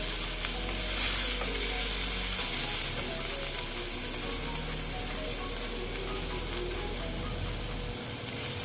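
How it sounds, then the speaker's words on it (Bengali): Salted okra (bhindi) sizzles loudly and continuously as it is sautéed in a pan, a dense close frying hiss with faint stirring scrapes and no voices. "এবার আমি ভালো মতন এটাকে কষিয়ে নিলাম"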